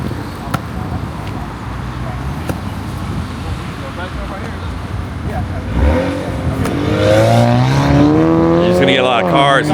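Cars pass along a road outside a film studio in Georgia, a continuous traffic rumble that swells as a vehicle goes by near the end, with people talking over it.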